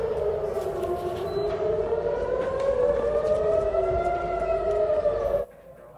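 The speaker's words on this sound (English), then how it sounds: "Air raid sirens sent Israelis scrambling to bomb shelters in Tel Aviv and several other towns and cities across the country." Air raid sirens wailing in Tel Aviv during a rocket barrage, a loud steady rise-and-fall tone with layered pitches that cuts off sharply near the end, with no one talking.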